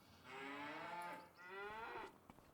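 Cattle mooing in Farming Simulator 25, two long drawn-out lowing calls one after the other, loud and close, with faint clatter at the end.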